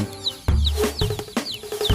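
Thai game chickens at a breeding pen in open rice fields cluck repeatedly and loudly at close range, with sharp overlapping calls coming in a steady, uneven rhythm.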